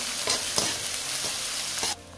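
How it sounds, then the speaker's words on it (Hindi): Onion, chili and garlic fry in a pan as a steady close sizzle, with several clinking stirs from a spoon before the sizzle drops quieter at the end. "साथ में डाल देंगे मिर्च और लहसुन को अच्छे से भूनेंगे"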